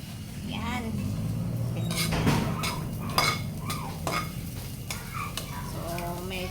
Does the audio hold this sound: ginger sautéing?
yes